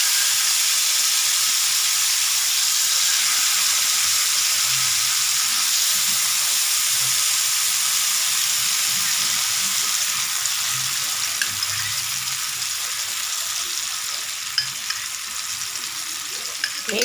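Steady, close sizzling of soaked food frying in hot oil on a home stove, a continuous bright hiss with small pops throughout.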